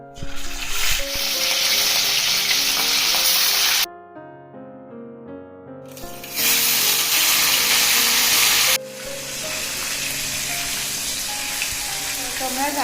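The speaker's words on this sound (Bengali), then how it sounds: "কারণ মাছগুলো ভাজবো।" Pieces of katla fish frying in hot mustard oil in a kadai over a gas flame, bursts of bright hissing sizzle broken by a short quieter gap, with tonal musical sounds underneath.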